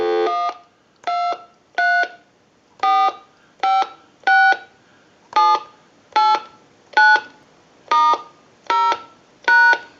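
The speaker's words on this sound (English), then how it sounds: "We'll go ahead and dial out." Twelve bursts of DTMF touch-tones dialed out on a TS22 lineman butt set during a repair conversion test, each short dual-tone beep loud and clean, evenly spaced about a second apart with near-silence between.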